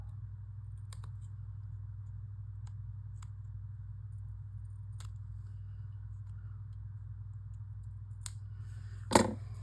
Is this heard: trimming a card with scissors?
yes